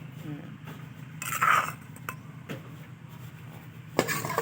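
Spoon stirring a Thai spicy shrimp salad with roasted rice and tamarind dressing in a bowl, giving soft scraping and clinking with a louder clatter near the end.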